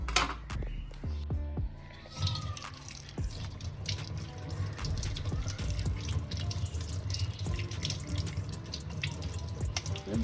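Attukkal kizhangu, the root used for veg soup, is rinsed under a running kitchen tap: a continuous close splash of flowing water with scattered drips and knocks as the root is handled, and no voices.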